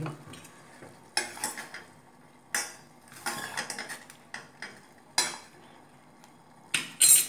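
Kozhukattai dough is stirred in a hot pot, giving irregular metal scrapes and clanks of a utensil against the pot, spaced in quick separate bursts over near silence.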